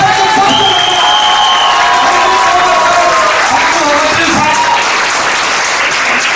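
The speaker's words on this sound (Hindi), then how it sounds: "एक दमदार ताली होना चाहिए।" Loud, sustained applause from a large seminar audience in Odisha, dense clapping filling the whole stretch with some cheering and shouts in the crowd, a voice heard faintly underneath.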